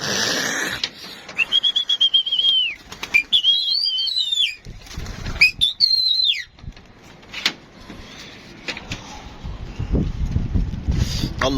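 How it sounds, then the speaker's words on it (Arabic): Pigeons take off and fly in bursts of flapping wingbeats, with high, thin whistling tones rising over a busy outdoor background; the sound is fairly close and comes in waves. "طلع الحمام ده، اول التانية طالعه اهي"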